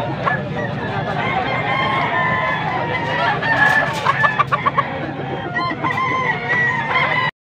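A bull stag rooster at a poultry market in Pampanga crows and clucks nearby, its calls rising out of a steady din of other fowl and market noise.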